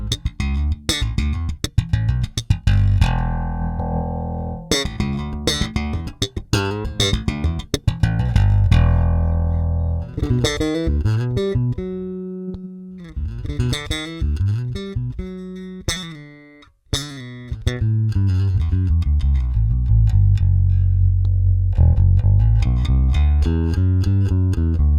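Sadowsky J-bass with its mid boost preamp switched off, played in a few runs of plucked notes, loud and close, alone with no talk.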